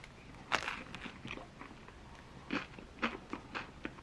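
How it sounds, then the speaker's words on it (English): Someone bites into a Polish radish sandwich of buttered bread and crunchy radishes, with a few crisp crunching bites and chewing, close and fairly quiet, with pauses in between. "Now I'm going to taste my sandwich."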